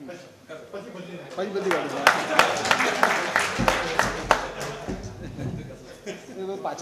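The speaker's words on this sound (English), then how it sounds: "please give them a huge round of applause." Audience applause at a tax seminar on assessment under the Income Tax Act as advocates are introduced, a dense, steady clatter of many clapping hands that swells and holds for several seconds, with room noise beneath it.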